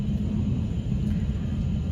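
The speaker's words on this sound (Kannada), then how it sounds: "ಫ್ಲೈಟ್ ಸಿಂಗಾಪುರ್ ಏರ್ಲೈನ್ಸಲ್ಲಿದ್ದೀನಿ ಈಗ ಸದ್ಯಲಿ" Steady low engine rumble inside a Singapore Airlines airliner in flight, a continuous dense drone with no talk over it.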